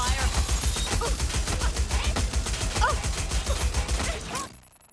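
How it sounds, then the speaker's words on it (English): Rapid sustained gunfire in the video game Watch Dogs Legion, a dense run of sharp repeated shots like automatic weapons firing, loud and close, cutting off abruptly near the end. "I'm hearing gunfire."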